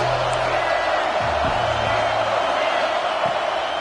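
A stadium crowd at a football game roars steadily throughout, a dense loud wash of cheering with occasional brief shouts rising out of it.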